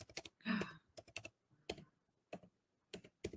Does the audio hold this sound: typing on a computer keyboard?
yes